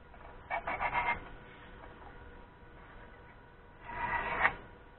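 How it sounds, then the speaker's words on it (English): A scribe dragged across steel to mark a fitting line for a belt grinder build, giving two short rasping scrapes, one early and one near the end, close and clear with no talk. "I'm going to score the line for where this sits."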